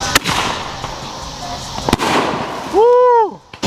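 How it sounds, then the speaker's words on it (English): Fireworks shells for the Fourth of July burst with several sharp, loud booms. A rising whistle and a crackling blast follow near the end, and no voices are heard. "we got 4 shells to go at once here in just a moment"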